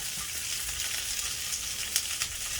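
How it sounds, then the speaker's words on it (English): String beans stir-fry in bacon fat on an electric stove, giving a dense, steady hiss of sizzling with a few faint crackles and light stirring touches, close and continuous with no voices. "we want the string bean to coating with this beautiful bacon fat."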